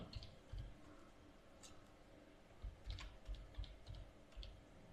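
Typing on a computer keyboard during a SolidWorks software session, soft scattered key clicks in uneven bursts, quiet and close, with faint low thumps and no talk.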